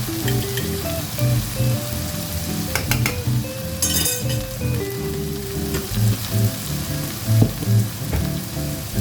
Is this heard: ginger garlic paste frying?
yes